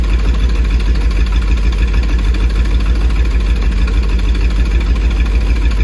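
A Chevrolet K10 truck engine idles steadily, loud and close, with a deep low rumble holding unbroken throughout and no talk.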